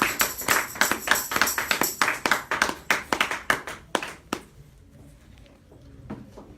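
A church congregation claps in a quick, steady rhythm during a worship service, sharp close hand claps that thin out and fade to a few scattered taps toward the end.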